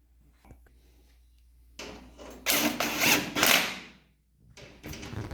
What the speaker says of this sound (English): I'm going to go ahead and just bolt that up on there